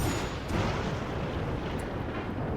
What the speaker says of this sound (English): Oh man, how did the door get struck by lightning?